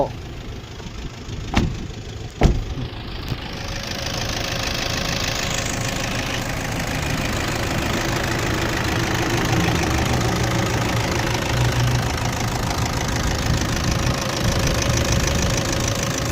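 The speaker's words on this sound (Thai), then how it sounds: "มาฟังเสียงเครื่องยนต์กันเนาะ" A four-door pickup truck engine idles steadily and smoothly with a low, even rumble, after a couple of brief clicks at the start.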